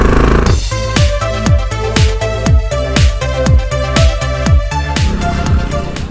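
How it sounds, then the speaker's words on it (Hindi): A diesel-engine Royal Enfield Bullet motorcycle runs close by, its engine beating out a loud, steady, rhythmic thump at a slow idle, with no voices over it. "तो ये है डीजल इंजन वाली बुलेट।"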